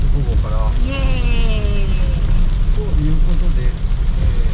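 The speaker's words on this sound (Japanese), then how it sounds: "雨でしっかり雨です" Steady rain falls at Cape Ashizuri in Kochi, Japan, a loud continuous wash that runs through the whole stretch while people talk over it and other voices rise and fall in the background.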